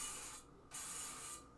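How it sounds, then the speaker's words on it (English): Cooking spray from an aerosol can hisses in two sustained bursts with a short gap between, close and steady, no speech. "We're going to need some cooking spray."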